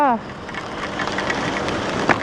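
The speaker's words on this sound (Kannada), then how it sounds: "ಓ ಗಾಯ್ಸ್ ಇವತ್ತೇ ಬರಬೇಕಿತ್ತ ಈ ಮಳೆ?" Steady hiss of heavy rain pattering on surfaces, dense and continuous, with a short tonal sound at the very start.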